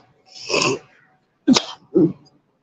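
One person with allergies sneezes, followed by two short cough-like bursts, close and clear against silence.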